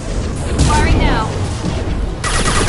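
Gunfire from the video game Mass Effect 2, a loud burst of rapid shots and booming impacts layered under in-game voices, with a swelling blast near the end.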